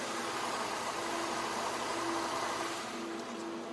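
A Mercedes-Benz C230 V6 engine idles steadily with a low, even hum and broadband noise, no revving or talk over it.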